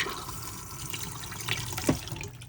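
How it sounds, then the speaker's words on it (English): Flush fluid pumps into a motorhome toilet bowl in a Bessacarr 745, a steady close-up watery gush and trickle with a couple of small splashes. "it pumps around our flush fluid"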